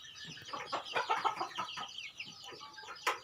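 Fighting cock chickens clucking and squawking close by in a busy, irregular stream of calls, several birds overlapping, with faint background noise.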